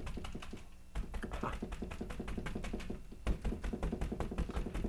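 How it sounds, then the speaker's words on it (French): A large paintbrush is dabbed repeatedly against a painting's surface, producing quick, close, dry tapping strokes in an uneven but steady rhythm, with no voices. "je tape avec le gros pinceau"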